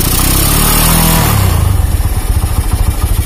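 A Honda Megapro motorcycle engine, idling with the headlight staying on before the lights suddenly cut out, revs loudly up close, then drops back to a fast, throbbing idle with a steady pulsing beat.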